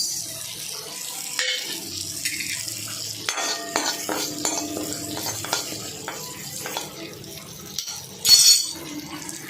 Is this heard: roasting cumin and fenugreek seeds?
yes